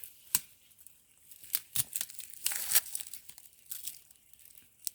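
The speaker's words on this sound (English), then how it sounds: "you're going to rock the knife back and forth and bend the tree down so it acts as a lever to help cut itself" A bushcraft knife rocks back and forth through a bent-over sapling, giving sharp crackling snaps and crunchy tearing of wood fibres in short irregular bursts, close and fairly quiet, with no talking.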